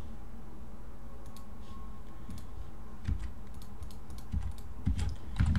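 Typing on a computer keyboard, quiet irregular clusters of light key clicks close by, getting slightly busier toward the end.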